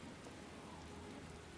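Steady rainfall on surfaces in a video game, a faint, even hiss of drops with no pauses or voices.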